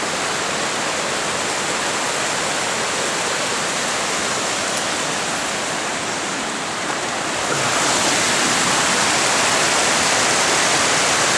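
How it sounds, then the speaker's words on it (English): Waterfall of melting snow near Lone Pine, a loud, steady rush of clear water pouring down, constant broadband roar that grows slightly stronger toward the end. "I'm to show you this waterfall."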